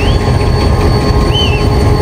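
A train engine hauls railway cars past, a loud, continuous rumble of rolling wheels with metallic squeals rising briefly over the steady roar.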